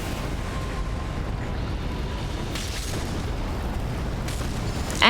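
Rykard's earthquake attack in the game Elden Ring: a continuous deep rumbling roar fills the scene at steady loudness, with a brief brighter burst at the very end.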